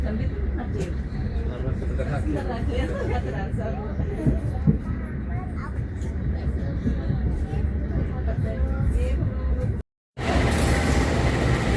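Steady rumble and clatter of the Kahuripan passenger train arriving at Madiun station, with murmuring voices of people nearby throughout, then a brief cut before the noise resumes.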